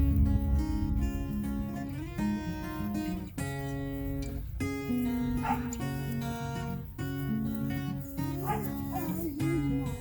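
Small puppies, including a white one, yip and whimper over a constant bed of music, the high cries coming in short repeated bursts.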